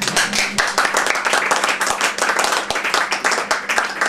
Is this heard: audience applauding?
yes